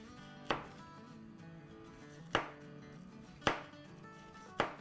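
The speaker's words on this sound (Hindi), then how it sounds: "थोड़ी थोड़ी स्लाइसेस में काट देंगे इसको" A knife slicing through a bell pepper on a cutting board: four crisp, separate chops spaced about a second or more apart, close and fairly quiet, with soft background hum between strokes.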